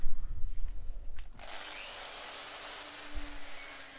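A sanding wheel, working like a small drum sander, grinds against a hand-forged nailing hammer. A few knocks give way to a steady, close abrasive hiss that holds to the end.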